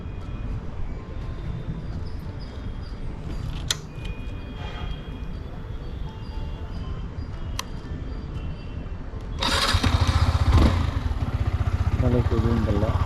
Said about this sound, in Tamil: வண்டியோட எக்ஸாஸ்ட் நோடு தான் இப்போ கேட்க போகிறோம்.